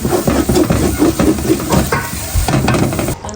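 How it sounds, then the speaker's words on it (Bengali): A pan sizzles loudly on a home stove with frying food, while a utensil repeatedly scrapes and clatters against it in uneven bursts close by. "আর এখানে আমাদের ভাই বউ রান্না করতেছে।"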